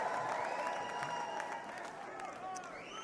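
A large convention crowd at the Republican National Convention applauds and cheers steadily, a dense, sustained roar of clapping and voices filling the hall at moderate level.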